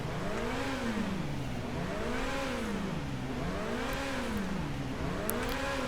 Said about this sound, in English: Let's see how the exhaust sounds.